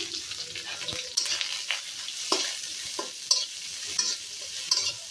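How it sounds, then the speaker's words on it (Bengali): Chopped onion going into hot oil in a pan on a village kitchen stove for chicken curry, giving a steady close sizzle with repeated stirring scrapes and clinks, no voices. "এখন এখানে আমি পেঁয়াজ কুচি দিয়ে দেবো"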